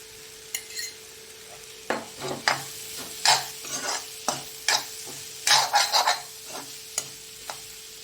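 In a pan with ghee, a spoon scrapes and stirs in short, irregular bursts, each with a brief sizzle, over a quiet kitchen background with a faint steady hum. No one talks.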